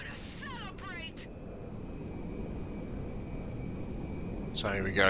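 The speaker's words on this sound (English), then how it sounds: "Final approach to the tiny airport in our big old plane." Fixed-wing airplane engine in GTA Online, a big old plane on final approach to a tiny airport, droning steadily and fairly loud throughout while someone talks briefly at the start and again near the end.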